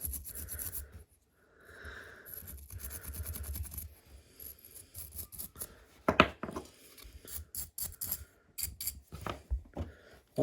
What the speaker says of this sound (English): Maybe a little scrub.